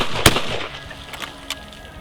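A 20 gauge shotgun fires a reloaded Winchester Super Target shell: one sharp, loud report right at the start, followed by a few fainter, scattered pops that trail off.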